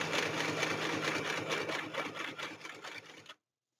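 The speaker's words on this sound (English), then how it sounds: "Turn, and then I'm going to sew to the stitching that I did at the top of the fold." A sewing machine stitches a pocket on a paper junk journal page, a rapid, even mechanical chatter close by that runs steadily for about three seconds and then stops abruptly.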